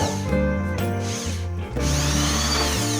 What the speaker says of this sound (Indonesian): kita bor ya bosku dulu ya.